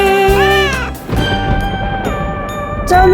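Cats meowing in a Halloween children's song, several sung, pitched meows drawn out and bending, with a thump in between against a musical backing.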